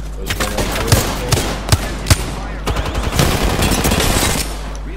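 Gunfire in the shooter game Apex Legends: sharp single shots, then rapid automatic bursts, loud and close over a constant low hum, with a voice briefly speaking among the shots.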